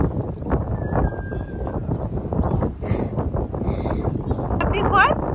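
Gusty wind blows across the microphone in an open park, a loud continuous rumble with rustling, while a child's and adults' voices sound intermittently.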